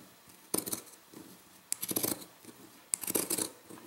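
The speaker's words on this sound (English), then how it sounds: "Now I'm going to use my pinking shears to trim away the excess" Pinking shears cut through fabric around machine embroidery in three short bursts of crisp snipping, close and clear, with quiet gaps between the cuts.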